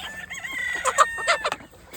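Desi hens cluck and a rooster crows on a poultry farm, several close, sharp calls bunched in the middle with a faint background hum, no talk.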